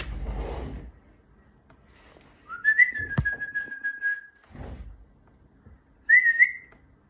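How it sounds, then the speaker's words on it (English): A small bird sings two bright, clear whistled phrases with a pause between, fairly close and alone over a quiet background with a brief low thump. "Got that little bird singing to us again."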